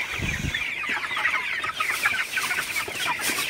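A flock of broiler chickens clucks and chatters continuously nearby while drinking, a busy overlapping murmur of soft clucks with a few low thumps early on.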